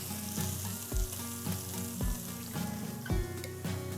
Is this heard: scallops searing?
yes